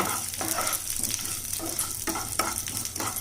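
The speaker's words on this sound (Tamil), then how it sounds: "கடுகு பொரிய ஆரம்பிச்சிருச்சு. உளுத்தம்பருப்பு சேர்த்துக்கலாம். அது கூடவே 2 காஞ்ச மிளகாய் சேர்த்துக்கோங்க." Mustard seeds, urad dal and two dried red chillies crackle and sizzle in hot oil as a tempering for a spicy copra coconut powder, with sharp popping bursts and a ladle stirring close by.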